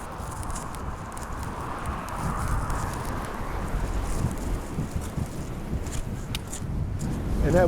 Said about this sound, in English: that wind is coming right out the south, so I'm not gonna apologize for it